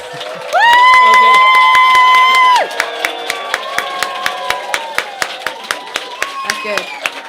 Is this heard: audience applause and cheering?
yes